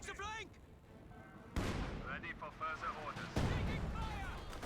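Artillery barrage in the real-time strategy game Company of Heroes 2: sharp booming impacts land at intervals over a busy battle din, with a commentator talking through it.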